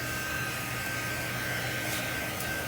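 Steady close whir of a handheld dryer blowing on a craft piece, constant and loud with no pauses or talk throughout.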